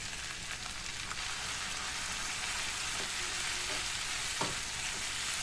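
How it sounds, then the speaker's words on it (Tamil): Chopped tomatoes sauté with mint leaves in a pan for chutney, making a constant close sizzle with a few soft taps and scrapes of stirring mixed in, and no voices. "இப்போ இதோட கட் பண்ண தக்காளியும் போட்டுக்கலாம்"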